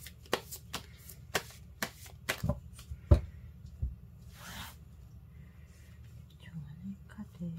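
Tarot cards being shuffled give a series of crisp, sharp snaps and riffles, close and fairly quiet, spaced irregularly and then tapering into softer rustles, with faint whispering in places.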